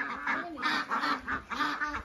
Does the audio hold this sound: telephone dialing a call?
no